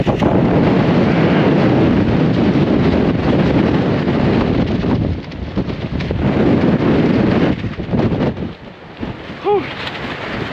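Strong gusting wind sweeping a sandy lakeshore, roaring loudly and steadily into the microphone with heavy buffeting, easing briefly near the end before surging again.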